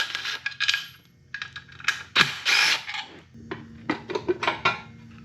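Rapid metallic clicking and rattling bursts from a ratchet working on the CVT cover bolts of a 139QMB 50cc scooter, with short pauses and clinks of tools between runs.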